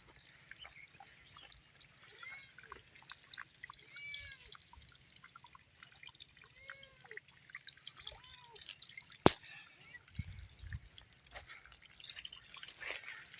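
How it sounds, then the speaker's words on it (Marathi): Irrigation water runs through a farm field planted with sweet lime trees and chickpeas, giving faint, scattered drips and soft trickling over quiet outdoor background, with a sharp knock near the middle. "हे आपलं पाणी चालू आहे."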